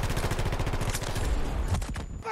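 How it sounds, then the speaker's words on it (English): Rapid bursts of automatic gunfire rattle close behind the player in Battlefield 2042, a dense fusillade lasting about two seconds with a sharper crack near the end. "I'm getting shot from behind."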